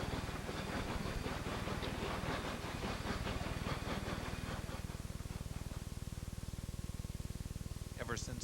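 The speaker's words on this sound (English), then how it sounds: "the train approaches the top of the hill at the station known as Cumbres" Steam train climbing the grade toward Cumbres station after leaving Chama, with rapid rhythmic chuffing exhaust beats and hissing steam, steady and close, fading somewhat near the end before a brief sharp hiss.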